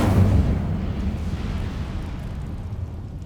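A whooshing, roaring burst of fire from the Incendio spell in Hogwarts Legacy, strongest at the start and then settling into a steady rumbling crackle that slowly fades.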